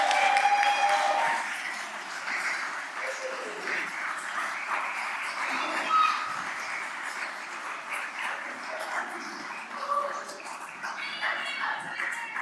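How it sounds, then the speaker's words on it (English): An audience at a school trustees' meeting gives a round of applause, a dense wash of clapping that holds steady for several seconds, with some voices mixed in. "let's give them one more big round of applause."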